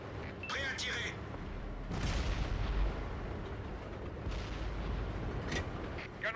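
Tank cannon blasts in World of Tanks on an Operation Sealion mission: a heavy boom around two seconds in, with a long rumbling tail and further shots and impacts under a battle din, with short radio-style voice callouts.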